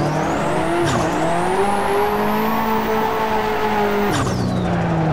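A Nissan 180SX slides in Assetto Corsa on a Lake Louise road, its engine revving loud and steady with tires squealing through the drift, broken by two sharp gear shifts and a brief skid, with no talk.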